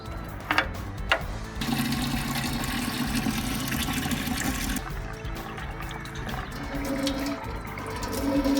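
Water gushes and splashes out of the open drain on a 1965 Mustang engine block during a flush, a steady rushing pour that follows a few brief knocks and continues alone.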